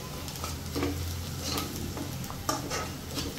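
Green chillies cooking in a pan over low heat, stirred gently, giving a soft continuous sizzle with light intermittent scrapes of the spoon, no voices.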